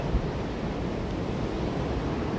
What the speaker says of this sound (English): we got the high waves today. That's a high tide right now.